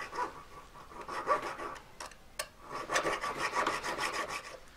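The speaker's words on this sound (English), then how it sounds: "So you're better off filing more away than not enough" Metal for a Zippo-style lighter is hand-filed with close, steady rasping strokes that scrape back and forth continuously, with a brief pause midway and no talking.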